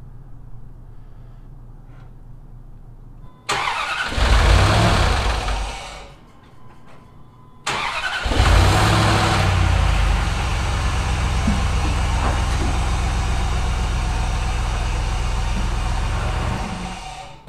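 An old, cheap truck engine cranks and starts, drops back, then restarts into a steady, loud, close idle that runs for several seconds before fading slightly.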